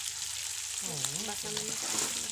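Onions sizzle and fry steadily in a hot pan at close range, a continuous hissing crackle with a voice speaking over part of it.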